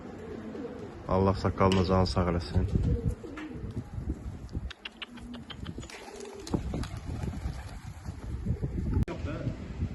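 Pigeons from an Azerbaijani pigeon keeper's flock in Quba coo and call intermittently, fairly close, with wind and someone talking over much of it.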